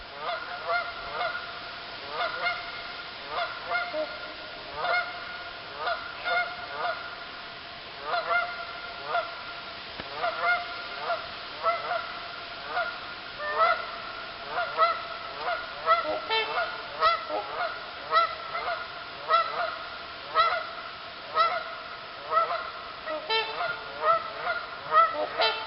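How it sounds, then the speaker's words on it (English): A flock of geese honks loudly and repeatedly on a lake, overlapping calls coming in bursts throughout. "a flock of geese landed on the lake, and they started honking loudly"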